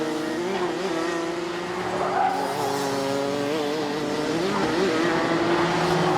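Rotax karts racing on a circuit at a 2023 Canadian final, several high-pitched two-stroke engines rising and falling as they pass, with some tire squeal, loud and continuous.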